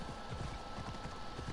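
Horse hooves clip-clop in a steady, rapid rhythm in the video game Assassin's Creed Odyssey, a continuous muffled trotting over a low background.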